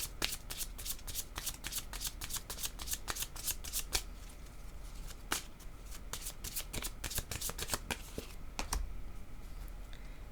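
Tarot cards are shuffled by hand in a fast, crisp stream of riffling slaps and flicks, close and steady throughout, with no one speaking.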